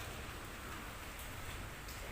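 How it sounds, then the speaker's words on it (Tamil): Heavy rain pours down in a steady, dense hiss of drops on surfaces, constant and loud with no pauses. "செம்மையாக மழை அடிக்குது பாருங்கள்"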